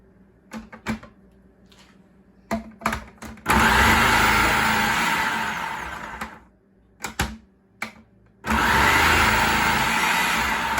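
Food processor chopping drained potatoes in two loud, whirring bursts of several seconds each, separated by clicks and clatter from the lid and bowl.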